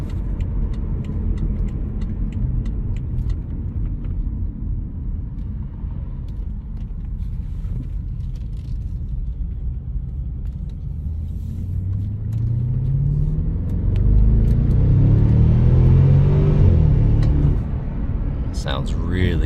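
A 2017 BMW Alpina B6 Gran Coupe drives along with a steady rumbling engine and road noise, swelling as it accelerates near the end, while someone talks over it.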